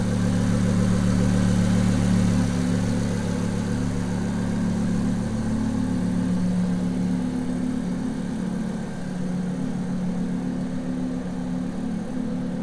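Lamborghini Huracan LP610-4 with a V10 engine idling at a steady, loud, close rumble, holding a low, even drone throughout with only slight swells.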